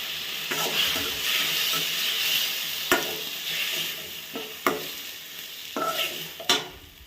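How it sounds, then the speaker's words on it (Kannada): Tomatoes sizzling and frying in a pan for Andhra-style red chutney, with a steady close sizzle broken by several sharp clacks of a spoon stirring and scraping the pan, no voices. "ಟೊಮೆಟೊ ಚೆನ್ನಾಗಿ ಬೇಯೋ ತನಕ ಹೀಗೆ ಹುರ್ಕೊಳ್ಬೇಕು."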